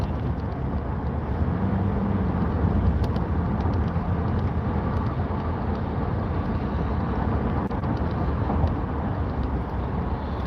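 Steady road noise and engine rumble fill the inside of a car driving through Dallas traffic, a constant broadband hum with light wind buffeting and no talking.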